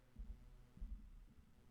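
Heartbeat sound effect from the horror video game The Watchers: soft, low thumps in a slow, regular pulse, about three beats over a faint hum, with no other sound.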